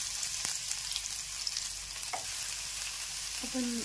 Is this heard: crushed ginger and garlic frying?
yes